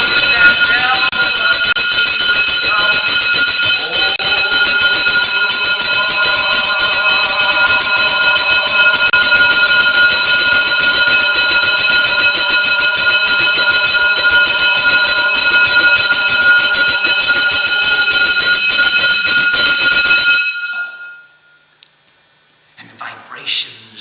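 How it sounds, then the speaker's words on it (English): A bell with a continuous tone rings during a Chandi Path chanting class, a sustained bright, shimmering ringing with steady overtones held for about twenty seconds before fading out abruptly into near silence. "with that bell of continuous tone."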